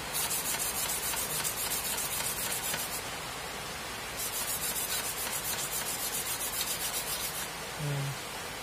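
Sandpaper rubs rhythmically against a motorcycle oil drain bolt in close, steady back-and-forth strokes. A harsh hiss runs in two long bursts separated by a short pause, and a faint tone is heard near the end.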